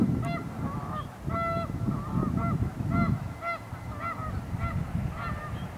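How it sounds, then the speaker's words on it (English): A flock of ducks honks and quacks repeatedly outdoors, overlapping nasal honks rising and falling over a steady background rumble. "And the ducks."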